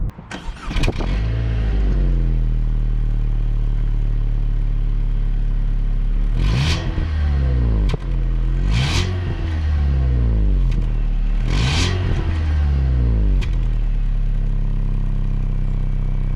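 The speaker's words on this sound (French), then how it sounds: "Moi, je trouve que l'échappement, comme tu peux l'entendre là," A turbocharged petrol car's exhaust heard from inside the cabin while driving, fitted with a particulate filter and fairly muffled, with a deep droning engine that rises in repeated revving pulls and gear changes, loud and close throughout.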